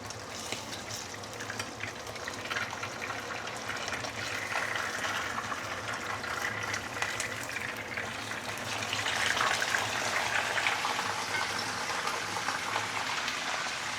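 A thick barramundi fish tail fries in a pan over medium-high heat, a steady hissing sizzle that crackles and spits continuously, close and fairly faint, with no talking.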